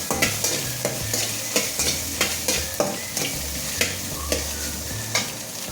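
Curry leaves and coriander sautéing in oil for a potato puttu, a steady sizzle with repeated scraping stirs roughly every half second, close and fairly loud, with no voices.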